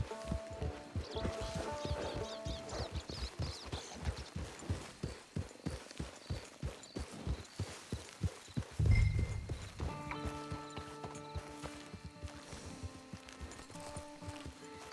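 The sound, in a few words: horse hooves, from a video game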